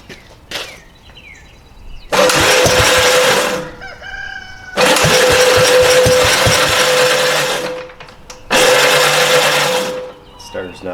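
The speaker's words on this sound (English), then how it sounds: "Starter's not wanting to engage again." A 1965 Gravely L8 tractor's starter cranks in three long, loud bursts with a steady whirring drone, separated by short pauses, as the engine, fitted with a new spark plug, struggles to catch.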